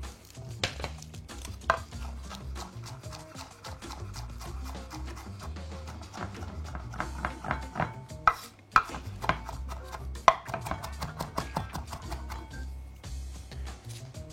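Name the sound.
knife chopping fresh herbs, parsley and coriander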